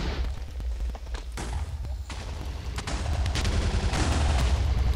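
Fireworks exploding in the video game Minecraft: dense, rapid crackling pops and booms that overlap into a continuous barrage, growing slightly louder over several seconds.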